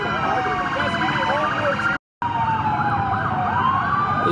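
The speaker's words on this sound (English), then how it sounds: "They're just out here running their fucking sirens loud as fuck to have us leave." Several emergency vehicle sirens wail loudly and continuously nearby, their pitches sweeping up and down and overlapping, with a momentary cut in the sound partway through.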